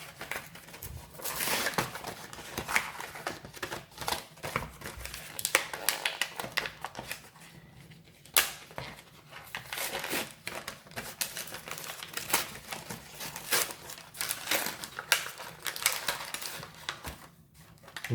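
Packaging of epoxy glue being opened at close range, a busy run of crinkling plastic, tearing and clicking handling noises in uneven bursts, fairly loud and continuous.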